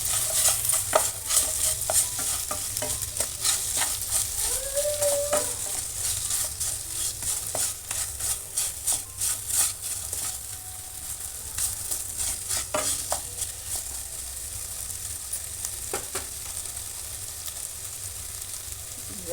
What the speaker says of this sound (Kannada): ಇದನ್ನು 1-2 ನಿಮಿಷ ಹುರಿಬೇಕು.